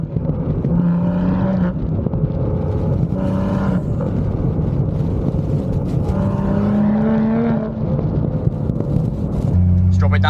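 A 430 hp BMW M235i on a road drive, its engine revving up and down with manual rev-matched downshifts, loud sweeping tones rising and falling repeatedly, ending in a deeper blip.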